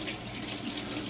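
Tap water splashing into a pan of hot oil while cooking tortillas for chicken enchiladas, a brief dense close-up hiss and spatter that holds steady throughout.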